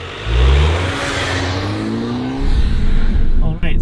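A car on winter tires travels at 50 km/h, with a loud, steady engine and road drone close up, and a rise in revving toward the end.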